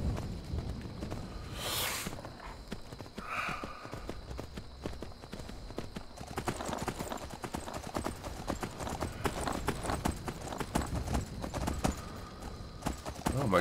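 Hooves of a headless horse in Skyrim clip-clop in a steady walking rhythm, faint and a little distant, with a brief whinny-like sound early on and someone talking over it.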